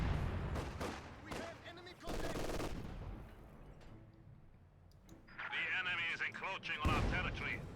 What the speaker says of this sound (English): Heavy field bombardment here on the mid-building.